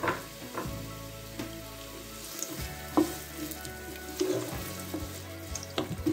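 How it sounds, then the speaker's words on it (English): Onion hitting hot oil in a pan, sizzling and crackling steadily, with scraping stir sounds and occasional clinks, close and alone. "Now it's hot, we can add the onion."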